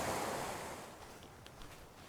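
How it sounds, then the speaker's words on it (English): A small river on a mountain trail rushing steadily past, a broad continuous wash that starts louder and eases slightly, close by with no talking. "it looks like I got a little river to cross here."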